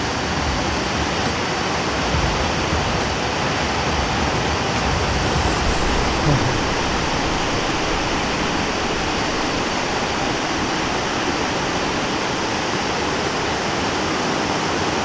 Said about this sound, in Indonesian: Air terjun 2 ya, kecil.